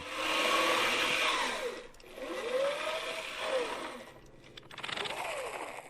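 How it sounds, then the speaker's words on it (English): An old hand-cranked army field generator whines as it is turned, its pitch rising and falling in smooth sweeping arcs across several slow cranking cycles, fairly close and loud with no talk. "There was a private cranking a generator to provide power for an army radio in the field."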